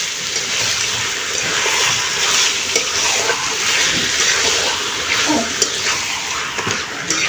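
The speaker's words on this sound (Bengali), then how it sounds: "এখন নেড়ে ছেড়ে মিশিয়ে দিচ্ছি" Beef being stirred and fried in a pan over a wood-fired stove in a village home kitchen: a loud, continuous sizzle with constant scraping and stirring, close up and busy throughout.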